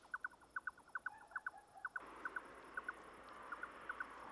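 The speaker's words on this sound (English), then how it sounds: "Just had some wing clapping now," A bird in the Tavira area of the Algarve, southern Portugal, makes sharp wing claps in quick pairs and short bursts, crisp and fairly close against a quiet outdoor background.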